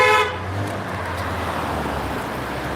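A car horn honks briefly at the start on a mountain road through an Alpine-style Georgia town, a short tonal blast that quickly gives way to steady passing traffic noise.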